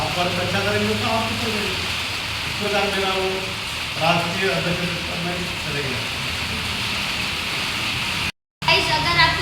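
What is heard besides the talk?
heavy rain falling outside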